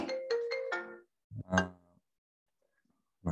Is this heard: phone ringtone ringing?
yes